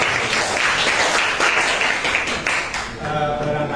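A classroom group of students claps for a presenting group, a steady dense patter of applause filling the room, with faint voices mixed in near the end.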